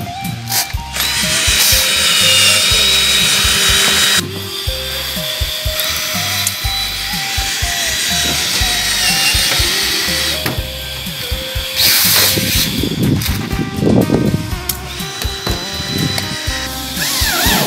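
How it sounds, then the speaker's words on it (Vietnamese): A power drill whirs loudly in several bursts, speeding up and slowing down as it drills a pilot hole for polycarbonate roofing sheets, with clattering and handling noise between runs. "Khoan lỗ mồi chưa?"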